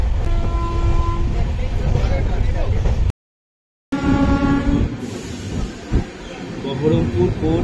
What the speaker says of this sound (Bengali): বহরমপুর কোর্ট স্টেশন আমরা ঢুকলাম।